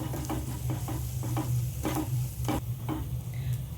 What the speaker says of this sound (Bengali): এবার সমস্ত মশলাগুলো আমি পেঁয়াজের সাথে ভালো করে কষিয়ে নেব।